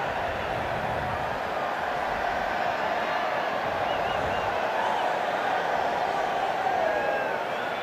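A big rugby stadium crowd roars steadily after a try in a 2003 New Zealand vs Wales match in Sydney. The crowd noise is distant and sustained, and a commentator talks over it.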